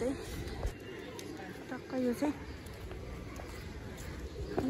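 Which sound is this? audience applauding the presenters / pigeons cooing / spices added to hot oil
pigeons cooing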